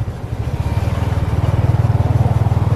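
A motorbike in Vietnam running close by, its engine giving a loud, steady low drone with a fast rhythmic pulse that grows stronger as the ride goes on, with no voices over it.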